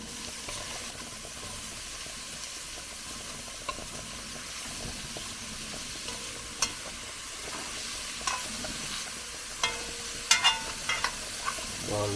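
Quiet sizzling of curry saltfish and cabbage frying in a pot while being stirred, a low steady hiss with occasional light clinks and scrapes of a spoon against the pot.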